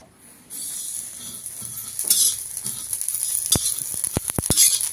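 Sesame seeds roasting on a hot tawa over a wood-fired clay stove, a crackling sizzle starting abruptly and growing busier, with a run of sharp metallic scrapes and clicks from stirring toward the end.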